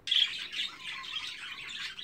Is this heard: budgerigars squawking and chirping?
yes